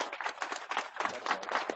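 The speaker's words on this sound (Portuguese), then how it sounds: "Aplausos efusivos," Audience at a canoeing symposium in Rio applauding, a dense, steady patter of many hands clapping close by for nearly two seconds without a break.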